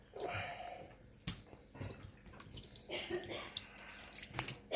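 Vinegar squeezed out of raw fish by hand while making kilaw, heard as quiet, wet dribbling and splashing liquid with soft squelches in uneven bursts and a sharp knock partway through.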